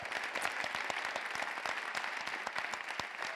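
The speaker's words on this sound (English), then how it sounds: "I want to ask folks to give a round of applause to Portland Public Schools" An audience at the State of Multnomah County 2023 event breaks into brisk, dense applause, a steady patter of many hands clapping at moderate distance for a few seconds.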